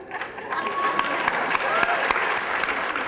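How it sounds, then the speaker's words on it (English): Applause fills an awards ceremony hall, a steady, moderately distant patter of many hands with crowd murmur and a few sharper individual claps standing out. "Thunderous applause"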